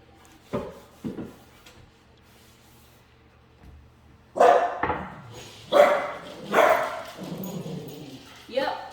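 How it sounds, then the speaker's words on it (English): Pet dogs bark at home in a kitchen, a couple of sharp barks early, then a louder run of close yips and barks, with a voice talking at times. "Those are my dogs."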